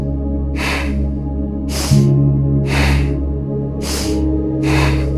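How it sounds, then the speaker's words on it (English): Forceful Bhastrika bellows breathing in a yoga class: five loud, close, rhythmic breath bursts about a second apart, each a sharp hissing rush of air, over a low steady background hum. "we're gonna stoke it a little bit more doing a Bhastrika breath,"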